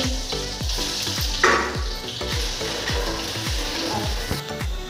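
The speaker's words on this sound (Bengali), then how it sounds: "তো এদিকে আমার শুকনো লঙ্কাও হয়ে গেছে, পেঁয়াজটা দিয়ে দিই।" Onion fries in hot oil with dried red chillies, giving a loud, dense, continuous sizzle and crackle. Repeated spatula scrapes and clinks sound against the pan, close by, with no talking.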